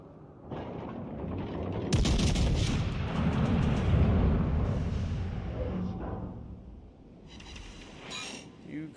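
Heavy 15-inch battleship main guns boom in World of Warships Legends, a broad rumbling salvo that swells around two seconds in and rolls on for several seconds, with a voice talking over the naval battle noise.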